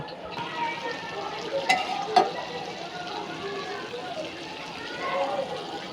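Water spinach and fish curry being sautéed in a pan, a soft, continuous sizzle with stirring and a couple of sharp clicks of a utensil against the pan, fairly close and moderate in level.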